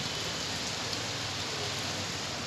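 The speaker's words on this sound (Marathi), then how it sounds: "पावसाचा वेग बघा वाढतच चाललाय." Heavy monsoon rain pours down in a dense, constant roar of water on surfaces, steady and moderately loud throughout, with no voices.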